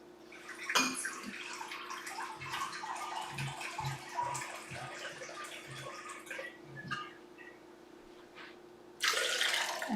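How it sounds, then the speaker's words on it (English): Two cups of water poured into a pot or blender while making veggie-loaded ramen, a steady splashing stream through most of the stretch, ending in a louder, brighter gush of running water. "we're going to add 2 cups of water."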